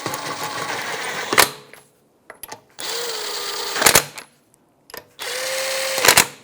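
A power tool with a 21mm socket snugs up lug nuts on a 2009-2014 Nissan Maxima wheel: three close, loud whirring bursts, each ending in a sharp rattle, separated by short quiet gaps.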